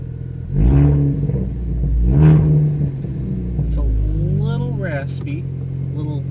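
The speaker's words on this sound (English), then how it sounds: "You can hear the turbo and just revs." Ford Focus ST with resonator and muffler delete, heard inside the cabin, revving in two rising bursts with turbo whoosh, then settling into a lower rumble while a person talks over the engine.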